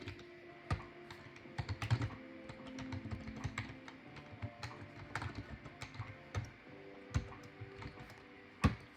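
Irregular clicks and taps of someone typing a short password on a computer keyboard while setting up an app's admin account, fairly quiet and close, with no talk.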